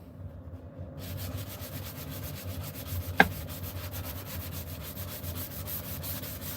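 Steady rhythmic strokes of hand sanding with 240 grit sandpaper on a wooden back scratcher, a soft close-up scratching rasp with one sharp click partway through.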